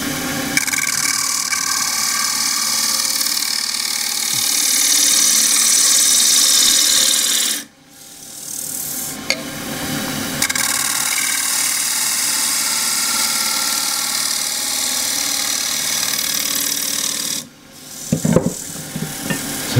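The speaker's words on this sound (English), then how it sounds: "I'm going to come back with the gouge to start with" A gouge cutting a roughed wooden bowl remounted on a wood lathe, a loud sustained rasping cut that stops briefly twice, with the lathe still humming between the cuts.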